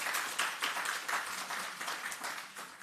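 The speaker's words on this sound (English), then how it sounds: "give the agency a clap for that" Audience applause at a Jamaica Customs Agency lecture and dialogue event, a steady patter of many hands clapping at moderate volume for about three seconds, with no speech over it.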